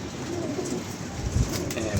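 Pigeons coo softly nearby amid a steady background hum, with low murmured voices.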